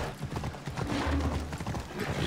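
Horse hooves clip-clop steadily in Assassin's Creed Odyssey, a close, even trotting rhythm under a soft game ambience, with no talk over it.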